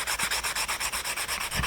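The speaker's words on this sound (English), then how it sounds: "man, that's a lot of hand sanding." Steady back-and-forth scraping of sandpaper on a wooden knife handle, rhythmic hand-sanding strokes repeating quickly and close up.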